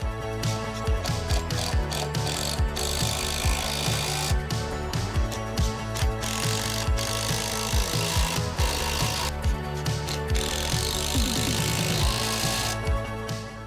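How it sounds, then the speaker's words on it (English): Screws are driven through a wooden post base into a concrete post, with repeated whirring, ratcheting bursts and creaking wood rising and falling in short runs, loud and close with no voices. "offer it back up to your post and then screw in the screws"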